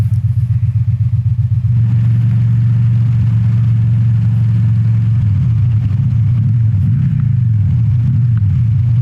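A 2016 Victory Cross Country motorcycle engine while riding, a loud steady low rumble that holds even, then rises and falls with throttle changes, heard close and alone.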